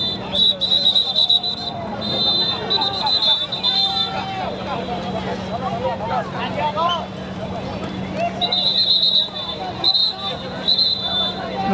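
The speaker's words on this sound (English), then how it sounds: "Not sure what all these whistles are for." Sharp, high whistles are blown in repeated bursts to clear spectators off a street during the Tour de Langkawi cycling race in Kuala Lumpur. Two clusters of blasts, early and late, rise over steady crowd chatter and traffic rumble.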